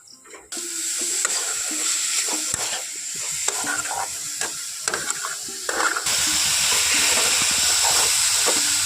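A coconut and sugar filling for Bengali patishapta pitha cooks in a pan under a loud, steady sizzle and hiss, with repeated scraping stirs throughout and no voices.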